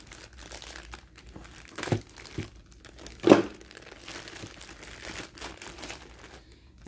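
Plastic packaging crinkles and crackles in bursts as it is cut open with scissors, with one sharper snip or crunch partway through; close and fairly quiet, no talking.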